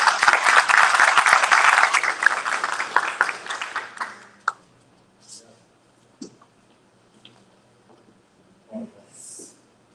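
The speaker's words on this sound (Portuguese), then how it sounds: "Uma salva de palmas." Applause from an audience at a public event, with dense, loud clapping for about four seconds that thins into scattered claps, followed by near-silence broken by a few faint clicks and stray sounds.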